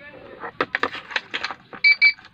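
A start-stop engine sensor installed under the console of a 2021 Toyota Kijang gives two short, clear electronic beeps as a chip is held near it, following some faint handling clicks.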